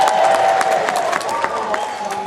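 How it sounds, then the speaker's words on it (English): An audience claps and cheers at a folk festival's circus-versus-Morris performance, a dense wash of applause and crowd noise with voices talking over it throughout. "Round of applause for loud audience member."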